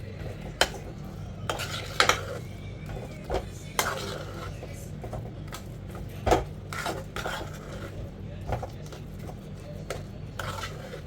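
Spoon clinking and scraping in a bowl as a spice mixture is stirred together with squeezed lemon juice, irregular close taps and knocks over a low room hum.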